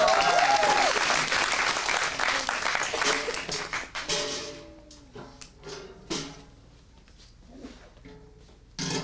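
Loud applause and cheering from an improv comedy audience at a live show in Phoenix, strongest at first and then thinning into scattered claps and a few knocks and thuds as it dies away.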